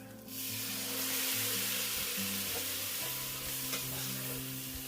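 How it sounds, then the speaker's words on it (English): Red wine poured into a hot pot of Bolognese sauce brings a loud, steady sizzle and hiss that runs throughout, with some stirring and scraping beneath and a low background hum. "Now is the time that we put in the wine."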